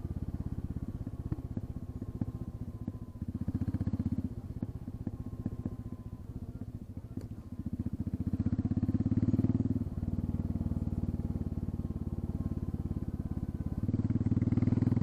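A Royal Enfield Classic 350 single-cylinder motorcycle with its exhaust tip removed, ridden along an avenue, gives a close, loud, raw thumping exhaust beat that rises in surges with throttle and drops back between them, with no talking.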